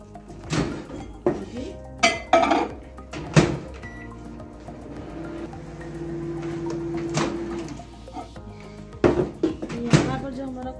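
Poppy seeds and mixed seeds get stirred in a microwave bowl, with scattered sharp clinks and scrapes of spoon on bowl, a soft hum in the middle stretch.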